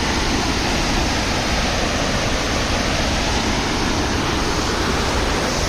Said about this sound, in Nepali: यसरी नै बिहान यो मुहान पोखरी झरना नजिक म आउँदैछु।